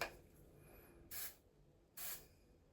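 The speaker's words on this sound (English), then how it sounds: "I am gonna spray this one" Two short, close hissing bursts of piercing aftercare spray on an ear about a second apart, each lasting a fraction of a second, against a quiet background.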